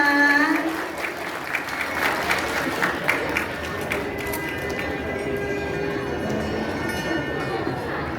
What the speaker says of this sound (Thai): ขอเสียงปรบมือต้อนรับเจ้าบ่าวแล้วก็เจ้าสาวอีกครั้งหนึ่งได้ไหมคะ